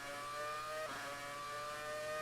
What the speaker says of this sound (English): The engine noise is just so good.